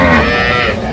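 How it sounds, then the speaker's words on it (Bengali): Cow with her calf at a cattle market at Ambari haat, giving a loud, close, drawn-out moo lasting about a second with no talk over it. "সুন্দর কোয়ালিটির একটি গাভী বাছুর"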